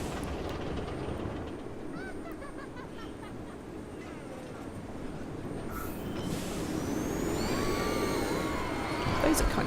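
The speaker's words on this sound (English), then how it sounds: "I hear chugging." Roller coaster train in the park-building game Parkitect chugging along a track, a steady rumbling clatter with whooshing passes, heard amid crowd-like noise and getting louder toward the end.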